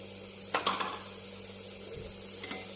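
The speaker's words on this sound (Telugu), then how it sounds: "ఇవన్నీ కలిసేలా కలుపుకుందాం" Spoon stirring turmeric, chili powder and coriander powder into potato brinjal curry in a pan, a few quick scraping clinks near the start and a faint one later, over a low steady hiss.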